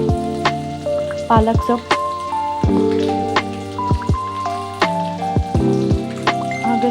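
Peanuts, onion, chillies, curry leaves and spinach fry in a pan for North Karnataka style avalakki, with a close crackling sizzle broken by repeated ringing metallic scrapes of stirring. A voice says a few words briefly.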